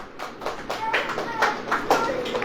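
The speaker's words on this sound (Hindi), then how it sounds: "ताली बजाइए।" A church congregation claps hands together at a prayer gathering, giving a brisk run of uneven, fairly close claps with some voices mixed in.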